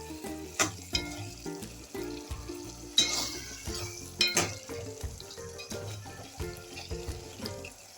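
Taro pieces with tomato fry in a pan, a soft sizzle broken by irregular scrapes and knocks of a spoon stirring, close and moderately loud.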